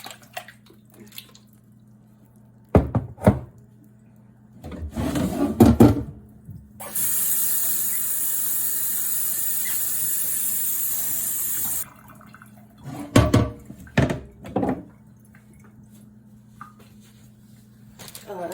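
A kitchen sink tap runs in one steady, fairly loud gush for about five seconds, with clinks and handling noises from dishes before and after and a voice briefly speaking.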